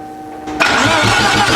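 A car engine cranks briefly and then catches, settling into a steady running idle; it sits close and loud, with no talking over it.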